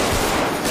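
A loud, unbroken burst of rapid gunfire fills a Grand Theft Auto session on a Malaysian roleplay server, a dense rattle with no pause.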